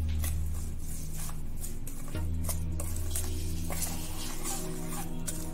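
A spoon stirs a spice mixture of dry ginger, cinnamon and turmeric for mango pickle in a pot, with faint scraping and light clinks over a steady low hum.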